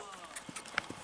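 Horse hooves clip-clop at a farm-hotel riding area: several light, quick hoof knocks sound faintly in a short burst, with voices around.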